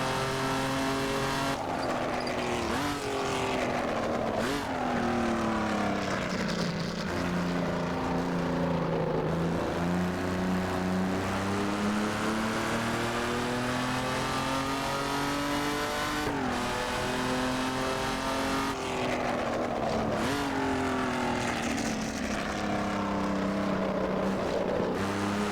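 Jaguar XJ13 race car in Assetto Corsa, its engine wailing loudly and continuously as revs rise and fall through repeated sweeps while drifting, with gear changes and tire noise beneath, no talk.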